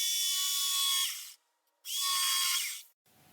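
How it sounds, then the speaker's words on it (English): A jigsaw finishing cuts in 3/4 inch plywood, two loud bursts of high buzzing cutting, each about a second long and separated by a short pause, then a faint start of a third. "finishing off with the jigsaw"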